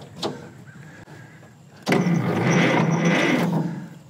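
Engine of a Cleveland bucket wheel trencher that sat for 50 years cranking with a short whirr, then catching and running loud and rough for about two seconds before fading, no talking.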